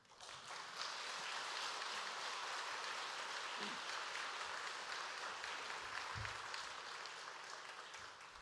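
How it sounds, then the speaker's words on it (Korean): A church congregation applauds to welcome a missionary at a Sunday service, a sustained, even wash of many hands clapping heard from a distance for several seconds. "우리 선교사님 나오실 때 박수로 환영하겠습니다."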